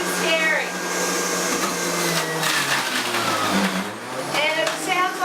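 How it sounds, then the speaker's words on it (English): A loud, steady motorized whir of a centrifugal juicer, with grinding texture and brief shifts in pitch as produce is fed in, a voice faintly underneath. "now we're going to use the centrifugal juicer"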